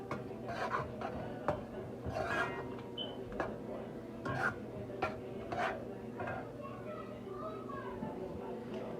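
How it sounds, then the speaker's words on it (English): A spoon scrapes and clinks against a pot while a tahini-seasoned mixture is stirred, irregular knocks and scrapes repeating under a person's talking and children's voices nearby. "Just keep mixing."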